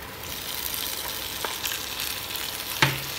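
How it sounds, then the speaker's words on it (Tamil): Fried chicken pieces in a pan for Chinese-style butter chicken with green chillies, a continuous soft sizzle with a few stirring scrapes and a sharp clack near the end, close and fairly quiet, no talking. "இப்போது பொரித்து வச்ச சிக்கனை சேர்த்துக்கலாம்."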